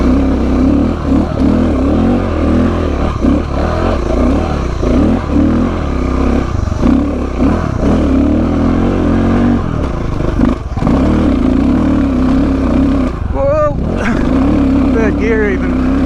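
An old KTM 690 Enduro motorcycle labours up a slippery, grassy single-track hill, its engine droning loud and close without a break, with sharper revving surges near the end.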